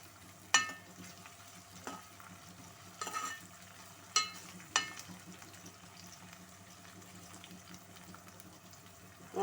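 Brinjal pieces, with other vegetables to follow, fry in a pan with a low steady sizzle, punctuated by several sharp scrapes and clinks of stirring, close and fairly quiet, with no talk.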